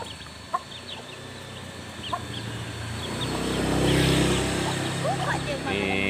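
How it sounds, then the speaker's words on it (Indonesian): Several chickens being fed in front of a house cluck in short, scattered bursts nearby, with a low engine-like rumble rising partway through and people talking softly. "Nih kasih makan ayam di depan rumah nih."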